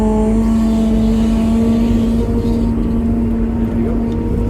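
A wheel loader's engine runs in a work yard, a loud, close, steady drone with a strong low hum that holds throughout, slightly shifting in pitch near the end.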